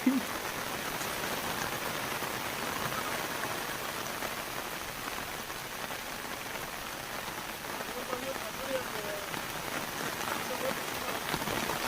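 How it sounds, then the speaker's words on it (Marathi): Steady monsoon rain pours down on a plateau near Sawarde, Ratnagiri, across the whole stretch, a dense even hiss of drops hitting surfaces, with no voices over it. "मित्रांनो वर जातो पाऊस आलाय"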